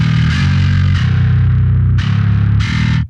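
A metal or djent bass driven through a Darkglass Ultra distortion plugin, giving gritty, buzzing sustained low notes with bright, fizzy attacks on a few hits, loud and close, with no speech.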